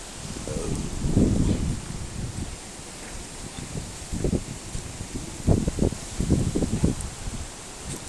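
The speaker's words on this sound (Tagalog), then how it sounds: "Lakas ng hangin." Gusty wind sweeps through foliage, with bursts of leaf rustling swelling and fading over a constant outdoor rumble.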